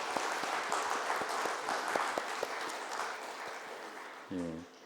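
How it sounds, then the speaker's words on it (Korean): A church congregation at a Sunday service applauds in welcome of a newborn baby, a soft, fairly distant patter of clapping that fades near the end, when a brief voice cuts in. "크게 환영의 박수 해주시기 바랍니다"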